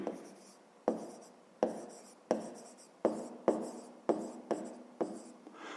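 Pen writing on paper while working a Ukrainian grade 5 math problem, heard as a series of about nine distinct scratchy strokes in a steady rhythm, close and clear, with no voice.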